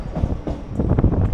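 Local train running near Andul on the Howrah–Digha line, a loud close rumble of wheels on track with faint rhythmic clatter, no voices.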